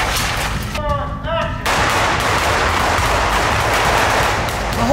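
Loud, dense gunfire rings out while a firefight scene among parked cars is being filmed, a sustained crackling barrage with a brief voice cutting in near the start.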